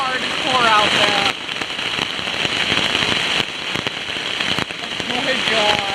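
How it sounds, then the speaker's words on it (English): Heavy rain pours and patters hard on a campsite shelter during a hailstorm at a state park, a dense, loud, continuous hiss with scattered crackling drops all the way through. "It is like raining hardcore out there."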